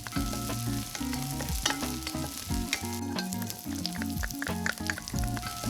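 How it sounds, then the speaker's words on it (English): Tilapia fillets sear in about two ounces of hot oil in a pan with loud, close, continuous sizzling and spattering, dotted with sharp crackles and pops throughout and no voices. "heat up 2 ounces of oil in a pan and sear the tilapia on both sides"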